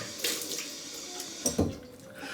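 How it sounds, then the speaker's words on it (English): Hot water from a running tap is splashed onto a face before a razor shave, giving a few close, distinct splashes over a soft steady sink flow, with no talking. "let me put some hot water on my face"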